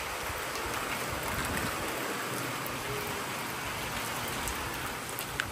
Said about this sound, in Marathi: आणि आपल्या पाठीमागे पण फुल जोरात पाऊस आहे.